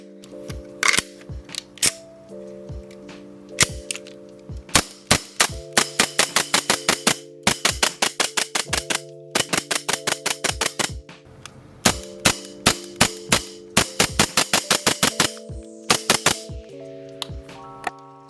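Gun fitted with a 5.1 Conqueror slide fired in rapid bursts of loud, sharp snapping shots, with short pauses between volleys, close and alone.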